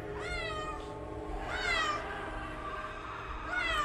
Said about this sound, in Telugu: నల్ల పిల్లి మూతి నాక్కుంటూ బయటకొచ్చింది